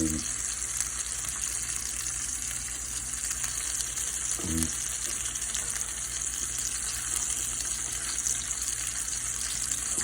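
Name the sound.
largemouth bass fillets cooking in a pan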